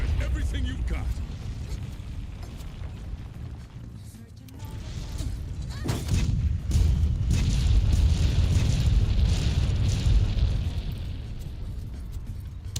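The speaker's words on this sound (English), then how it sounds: "He's shooting it with the ballista." Ballista shots and cannon explosions fired at a huge monster in Monster Hunter World, a sustained barrage of booming blasts and mechanical clanks with heavy low rumble, swelling midway and continuing under overlapping talk.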